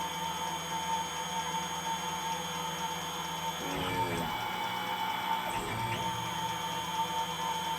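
Milling machine turning steel for a shop-made saw arbor, a steady mechanical whine with tonal hum running throughout and a couple of brief bursts of cutting noise midway, close and alone without talk.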